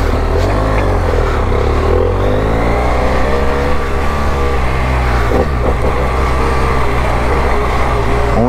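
BMW F800 motorcycle engine revving steadily close by, a continuous loud drone with harmonic tones that rise and fall as the throttle changes, plus a brief burst of extra revving midway.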